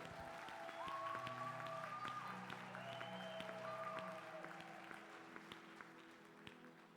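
A church congregation at Sunday worship claps through a sustained keyboard chord, with scattered claps that thin out and fade away toward the end, all fairly quiet and somewhat distant.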